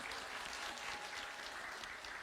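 Church congregation giving loud, sustained applause to welcome the pastor to the front, a dense, even roar of many hands clapping throughout.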